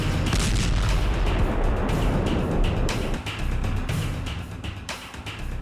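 Loud, heavy explosions rumble and thud in close succession, filling the air with a dense, booming roar.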